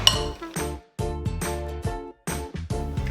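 An electric mixer blends pumpkin puree into no-bake cheesecake filling in a bowl. It runs in loud bursts with brief gaps between them, and the motor whirs with a rattling tone.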